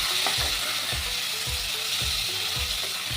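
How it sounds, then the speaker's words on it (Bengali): Ridge gourd with turmeric and green chillies fries in a pan, a constant loud sizzle with regular low spatula knocks about twice a second, and nobody talking. "আর একটু ভেজে নেব"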